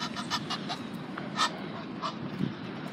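Ducks honk in a London outdoor setting, several short rasping calls at irregular intervals with one hoarse-sounding bird, heard at moderate distance over background ambience.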